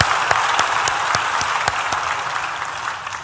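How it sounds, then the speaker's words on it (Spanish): A church congregation breaks into brisk, dense applause that stays steady and close throughout, with sharper individual claps standing out from the crowd. "denle un aplauso al que merece toda la gloria."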